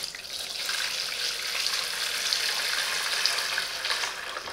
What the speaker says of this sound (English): This foot spa provides a combination of bubbles and vibrations that help relieve tired feet